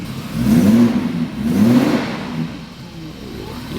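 A BMW E30 fitted with a swapped-in V8 engine revs twice in strong, rising bursts, close and loud, then settles back toward a steady idle.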